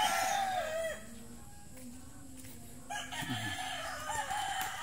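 Chickens and young chicks on a farm: a rooster crows and hens cluck in a mixed farmyard chorus, with some faint background noise throughout.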